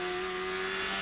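A Champ Car open-wheel race car's engine screams at high revs as the driver gets back on the throttle after running off the road at Mont Tremblant, with a steady loud tone that holds throughout.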